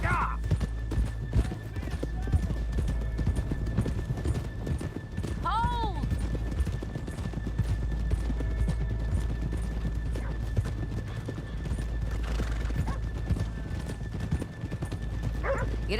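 Horse hooves clip-clop steadily on hard ground as horses walk in a Red Dead Redemption 2 game scene, with a brief neigh partway through and voices speaking over it.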